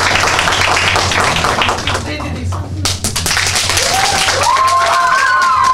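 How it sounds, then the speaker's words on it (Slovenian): Audience applause at an improv show, a dense clatter of clapping from a crowd that thins briefly midway, while a voice speaks over it near the end. "Rahlo močnejši aplavz"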